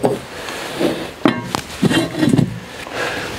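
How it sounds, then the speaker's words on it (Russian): A lid set onto a cast iron pot filled with layered zucchini, salt and water, ready for a wood-fired oven, giving a few close knocking clinks amid light handling sounds. "Закрывай крышкой."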